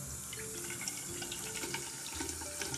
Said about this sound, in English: Here's how the water comes out.